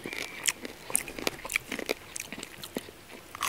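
Crunchy bites of fried spicy pork pinakupsan eaten outdoors, a run of sharp close crackling crunches and chewing snaps repeating irregularly for several seconds without talk.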